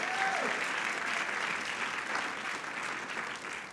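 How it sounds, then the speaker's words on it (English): Applause from the audience at a county MLK celebration, a steady wash of clapping from a large indoor crowd that holds evenly and eases slightly toward the end. "Will you please give them a round of applause?"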